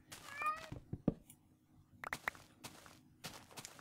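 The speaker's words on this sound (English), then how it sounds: "Oh, hey, look, kitty cat." A cat meows in the Minecraft video game, a few short high mews scattered among footstep-like taps and soft background sounds, fairly quiet overall.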